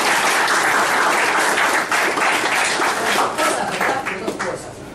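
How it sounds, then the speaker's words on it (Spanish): Loud, close applause from an audience fills the room continuously, many hands clapping in a thick, even wash that tapers slightly toward the end. "démonos muchos aplausos"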